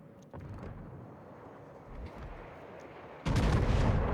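Naval gunfire from a battleship, the Derflinger, in the video game World of Warships: a muffled low boom rumbling through the clip, then a sudden loud, heavy salvo blast near the end.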